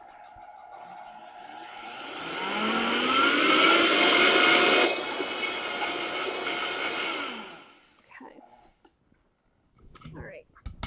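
A small electric grinder whirs up loudly for several seconds while grinding oats and spices, its motor pitch rising and then holding before it cuts off, followed by clattering handling and brief talk.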